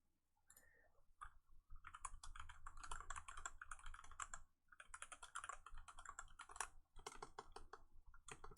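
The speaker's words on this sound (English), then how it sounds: "it's really crazy how it amplifies the clicky clacks" Rapid computer keyboard typing, irregular clicky clacks in quick bursts with brief pauses, close but faintly recorded, no voices.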